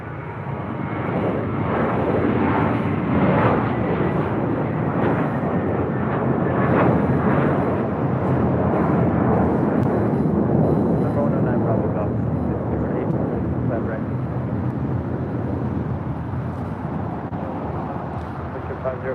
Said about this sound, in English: JetBlue Airways flight 524 heading to JFK